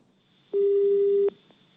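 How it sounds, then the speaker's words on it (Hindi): A single steady telephone tone sounds for under a second after a Hindi phone interview ends, as the call is cut off; it is fairly loud and clear over a quiet background with a faint click at the end. "तो यहां पर भी उन्होंने भी फोन काटा"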